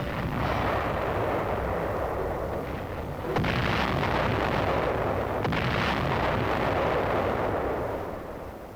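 Floating artillery firing off a harbor front during the Korean War, heard as a sustained loud rumble of heavy gunfire with booming bursts around the midpoint, all rough and dense like an old newsreel soundtrack, with no voices.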